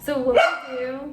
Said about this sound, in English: That's our dog, and he's just jealous because he's not getting to play.